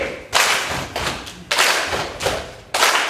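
A group doing body percussion in a church setting strikes a deep bass sound in unison, four heavy thumping slaps in a steady count, each with a short ringing tail, loud and close with no talk.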